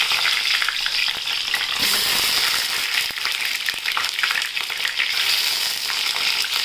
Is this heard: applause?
no